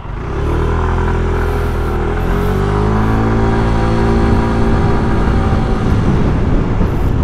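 A new motorcycle's engine revs loudly and steadily up close, with rising and falling harmonic tones over a constant rumble and no talking.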